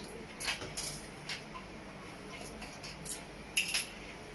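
A spoon scooping vitamin C powder into a glass of about 300 ml of water, a few faint, light clinks and taps scattered over a quiet room.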